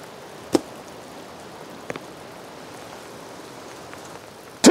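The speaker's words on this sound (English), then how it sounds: "it's pouring rain out" Heavy rain pours outside as a steady, even hiss, broken by a few sharp isolated knocks, with no voices.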